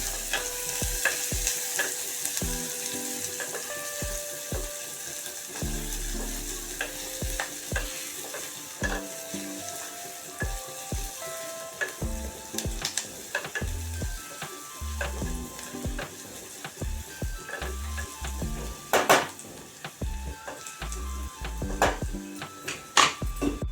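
Onions frying in a pan for spiced matki rice, a steady sizzle broken by repeated scraping and clattering stirs of a spoon against the pan.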